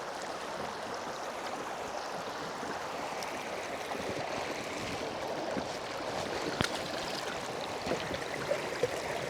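Shallow river current flowing around a boat on a solo river trip, a steady broadband rush of moving water with occasional small splashes and knocks, moderately quiet and continuous.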